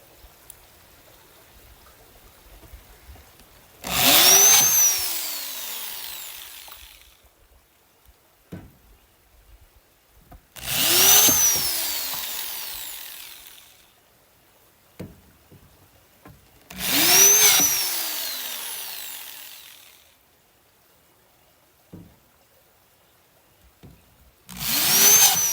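A power drill drives screws into wooden garden bed boards in three separate whirring bursts of about three seconds each, rising in pitch as each one starts. Quiet pauses fall between them.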